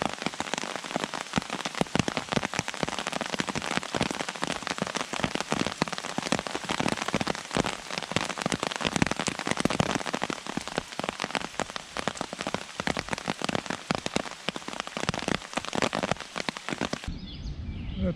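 Steady rain falls on surfaces outdoors, a dense, continuous patter of drops that stays even and fairly loud throughout, heard alone and ending abruptly.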